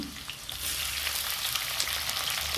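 Chopped tomatoes hiss and sizzle loudly in hot oil in a karahi for a village-style potato and fiddlehead dish, a dense steady frying crackle that swells up quickly after the first half second and continues close and uninterrupted.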